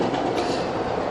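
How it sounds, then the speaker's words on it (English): A train rolls past, giving a steady, moderately distant rumble with faint rail clatter throughout the short stretch. "Hey, that's the train."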